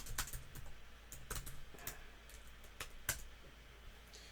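Computer keyboard typing, close and clear, in irregular bursts of keystrokes with brief pauses, a few sharper key hits standing out over a quiet background.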